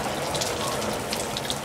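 A garden hose runs a steady, full gush of water onto plants outdoors, close and continuous with a few splashy spikes, no talk over it.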